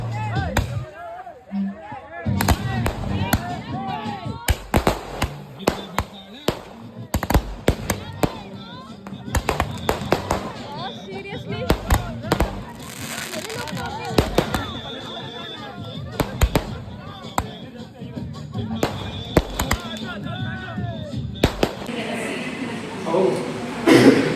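Firecrackers burst repeatedly in sharp, loud bangs at irregular intervals, some in quick clusters, with people talking and laughing between them during a short-film launch gathering.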